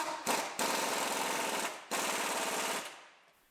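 An impact wrench rattles in two long, loud bursts while tightening subframe bolts on a Dodge Journey, each burst ending abruptly before a short pause.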